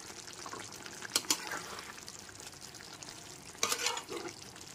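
Garam masala is stirred into a soya chunk curry frying in a pan, with soft scraping and a gentle sizzle, plus two brief clatters of the spoon near the start and another toward the end.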